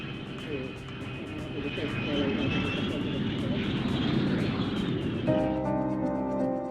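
An American SR-71 Blackbird spy plane arriving after a transatlantic flight roars as a broad, sustained jet rumble that swells and holds loud, with someone talking over it and a musical sting near the end.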